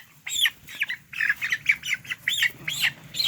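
A chicken squawks repeatedly in short, loud, agitated bursts close by while being held, as if struggling.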